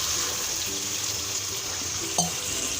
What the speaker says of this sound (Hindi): अब हम यहाँ पे 1 गिलास इसमें पानी ऐड करेंगे गलने के लिए।